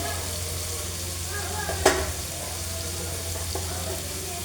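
Onions fry with spices in a pan for a pumpkin curry, a soft steady sizzle with a brief stir or clink partway through, heard alone and fairly close.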